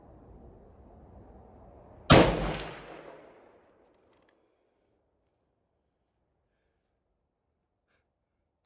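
One sharp, loud rifle shot from a .338-06 at an outdoor shooting range, a sudden crack followed by a decaying echo that fades within about a second into near silence.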